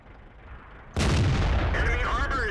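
A Black Prince tank's cannon fires one sudden, loud round in World of Tanks, followed by a sustained rumbling roar with thin whistling tones trailing off.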